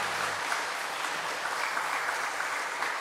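A church congregation at a dawn revival service claps together in a steady, continuous round of applause that stays even throughout.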